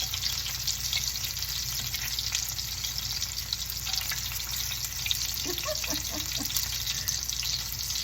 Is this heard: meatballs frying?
yes